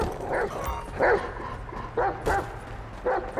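A dog in Grand Theft Auto 5 barks repeatedly in short, close yelps spaced about a second apart over a steady game background hum.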